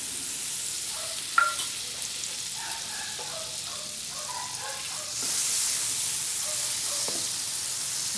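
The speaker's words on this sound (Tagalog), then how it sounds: "First, painitin ang kawali. Then, ihulog ang butter." Butter melts and sizzles in a hot pan over medium heat while making white sauce for baked macaroni, a steady close frying hiss with a few small pops and a stirring clatter, swelling louder midway through.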